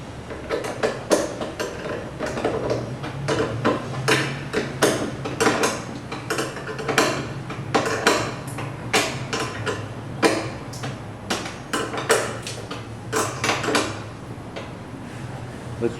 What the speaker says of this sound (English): Put your plastic washer on and nut and tighten it